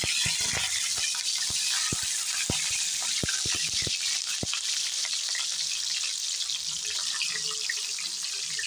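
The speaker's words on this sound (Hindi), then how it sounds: "अब हम इसमें गोभी फ्राई कर लेंगे।" Cauliflower pieces sizzle steadily in hot oil, making a loud, close, continuous frying hiss with a quick run of sharp pops and crackles early on that then settle into an even sizzle.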